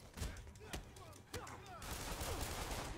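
Quiet gunfire in a Spider-Man video game, with a few sharp shots early on and then a denser, sustained rattle of distant fire under background game noise.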